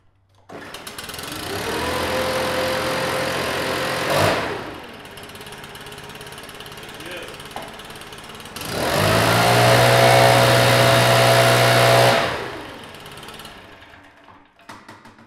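A Stihl BR 600 backpack blower engine runs in two separate bursts, each a loud, steady, close whine with a sharp start and stop, the second burst louder, with a quieter gap between them.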